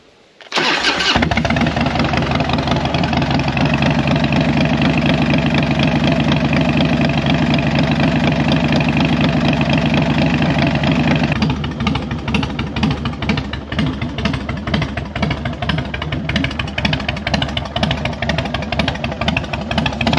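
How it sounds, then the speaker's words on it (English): A cold Harley-Davidson FXDX motorcycle starts and then idles loudly up close with its carbureted engine, giving a steady rumble that turns into an uneven, lumpy chug partway through. "Yeah, this thing runs great. Carburetor sounds pretty good."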